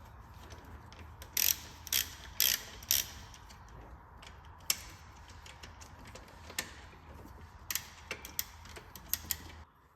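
A hand ratchet works the small 10mm alternator bracket bolts on a VT Commodore Ecotec engine, making quiet clicking runs in short bursts with pauses between them, close by and with no talk.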